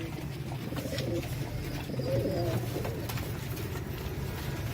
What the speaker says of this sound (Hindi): ये कुछ तो नीचे ही बैठे हुए ये कबूतर।